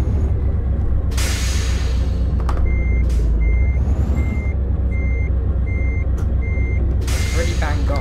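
Truck reversing beeps from a Renault Major in Euro Truck Simulator 2, a steady evenly spaced series of electronic tones over a loud continuous engine rumble, with short air-brake hisses in between.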